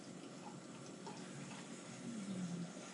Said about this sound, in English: Nice hazy pour.